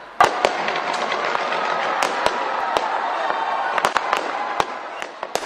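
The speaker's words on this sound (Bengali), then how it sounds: "ঘড়ির কাঁটা রাত ১২টা ছুতেই নতুন বছরকে স্বাগত জানিয়ে শুরু হয় আতশবাজি" New Year's fireworks burst over Auckland's Sky Tower, sharp cracks and booms firing at irregular intervals over a constant roar of crackle and distant crowd noise, with a voice faintly mixed in.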